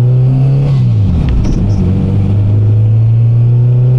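A Honda Integra DC2 engine revving, loud and close, with a deep steady hum that dips briefly as the throttle is blipped and then settles back to a constant drone.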